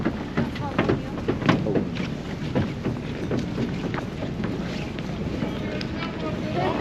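Rushing water and wind noise from a moving ferry crossing the Bosphorus in Istanbul, with a voice talking over the choppy, rumbling background.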